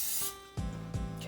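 A can of cooking spray for enchiladas gives two short hissing bursts, fairly close, after a brief higher hiss at the start.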